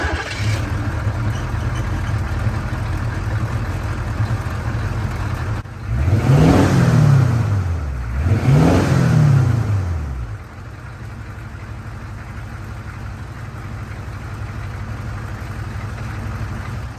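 A 1985 Chevy M1008 CUCV with a 6.2 diesel idles with a clattering rumble, then revs up twice in quick succession, each rise and fall clearly audible, before dropping back to a steady idle.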